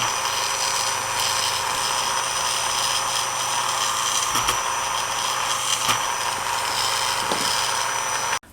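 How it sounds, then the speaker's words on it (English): A drill whirs steadily and continuously at close range for several seconds while boring a hole in a small plastic scale model ship part, then cuts off abruptly at the end. "So whilst I've got the drill going, I might as well do another one"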